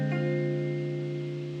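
A single flat 9 chord struck once on guitar rings out, sustaining steadily with a rich, jazzy tone.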